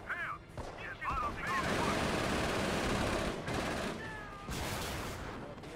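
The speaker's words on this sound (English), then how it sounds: "Look how OP the MGs are." Machine guns rattle in long, dense bursts of rapid gunfire in the Company of Heroes strategy game with the Blitzkrieg mod, loud and continuous with short gaps, and brief voice sounds near the start.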